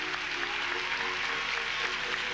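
A church congregation claps hands together in steady, dense applause, the broad wash of many hands filling the space evenly at moderate volume throughout.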